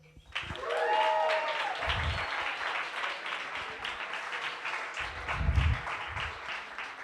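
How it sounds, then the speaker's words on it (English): Warm applause for coding bootcamp students at a final projects event in Barcelona, a crowd clapping at moderate distance that swells after a brief voice and holds steady, with a few low thumps and murmurs. "can I get a warm applause for the students?"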